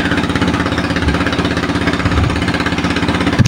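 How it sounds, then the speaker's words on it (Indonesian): A mobile rice milling machine grinding paddy at a farmhouse throbs with a fast, regular engine pulse, a loud, close mechanical chugging that carries on without pause. "mesinnya juga lumayan cepat untuk menggiling"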